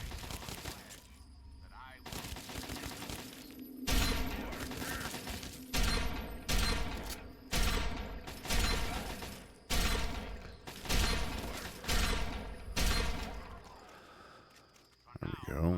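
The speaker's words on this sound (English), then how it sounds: "right, combat shotgun. Here we come." Combat shotgun firing in the Fallout 3 video game, a steady series of about nine loud booming blasts spaced roughly a second apart, each with a short decaying tail.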